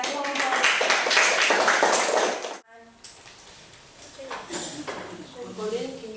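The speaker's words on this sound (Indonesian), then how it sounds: "berikan aplaus kepada kelompok" A classroom applauds a presenting group of students with loud, dense clapping for a couple of seconds, then it cuts off abruptly and a voice starts talking over faint room noise.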